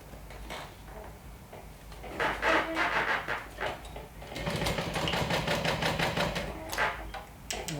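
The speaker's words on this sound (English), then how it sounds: "we're going to sew all around it, leaving an opening at the top" A home sewing machine runs around the lining of a bag flap in bursts, its rapid rhythmic whirring starting and stopping over a quiet room, close and moderately loud.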